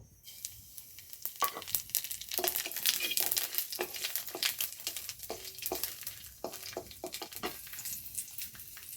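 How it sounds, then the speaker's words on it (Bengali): Dried red chillies, bay leaf and nigella seeds crackle and sizzle in hot mustard oil, a steady close frying hiss with dense popping crackles throughout. "এখানে আমি ফোড়নের জন্য দুটো শুকনো লঙ্কা নিয়েছি আর সঙ্গে তেজপাতা এই কালো জিরেটা দিয়ে দেব"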